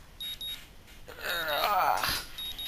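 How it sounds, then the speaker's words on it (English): A video game alarm in Katawa Shoujo sounds as short, faint electronic beeps repeating at intervals. A brief rising whoosh sits between them. "The sound of an alarm pulls me out of a fitful slumber and into the unpleasant state of wakefulness."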